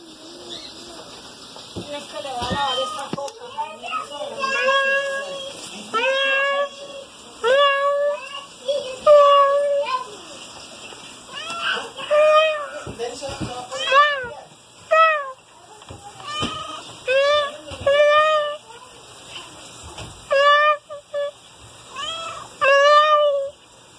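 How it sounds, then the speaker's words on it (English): A cat meows repeatedly in short, bright calls on a New York street, close and fairly loud, with breaks between meows and faint background noise. "Look at that beautiful cat."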